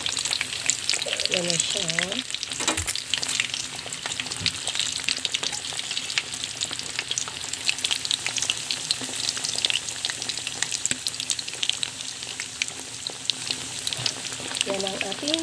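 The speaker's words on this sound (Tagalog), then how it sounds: "Yan ang ating second frying." Pork belly lechon kawali deep-frying in hot oil on its second fry, a steady dense crackling sizzle throughout with a few stirring knocks, while a voice speaks briefly over it.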